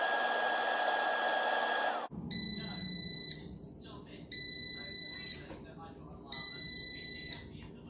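Three loud, steady electronic beep tones, each lasting about a second, sound from a Cosori air fryer after a burst of blowing fan noise stops.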